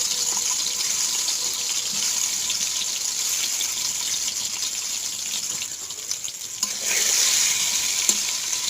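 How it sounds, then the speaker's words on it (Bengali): Eggs fry in a pan with a loud, steady sizzle and crackle throughout, briefly swelling brighter near the end as the pan is stirred. "ভালো মতো ভেজে নিতে হবে। একটা একটা করে ছেড়ে দেবো।"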